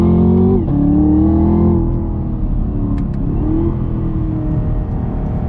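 A 650-horsepower Chevrolet Camaro ZL1 with a 10-speed gearbox accelerates hard on throttle, its loud, close engine note rising and then dropping briefly at a quick upshift before climbing again steadily.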